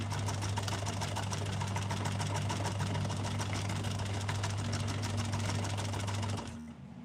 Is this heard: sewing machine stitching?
yes